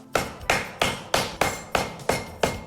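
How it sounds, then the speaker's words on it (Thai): Frozen puff pastry dough is beaten to loosen it, giving eight sharp, evenly spaced whacks about a third of a second apart, close and loud, each with a short decay and no talk. "เราตีให้เขาคลายตัวนิดนึง ปกติแล้วจะมาในฟอร์มแบบแช่แข็งนะครับ"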